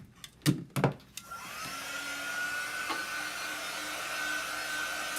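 A handheld dryer blows on chalk paste during a Chalk Couture project, starting with a whine after a few clattering knocks. It then runs in a steady, moderate whir.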